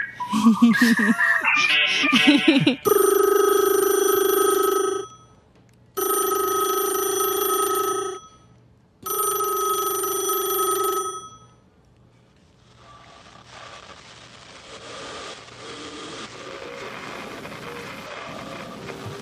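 An old-style telephone bell rings loudly three times with pauses between, after some brief clatter, then a low rushing background remains.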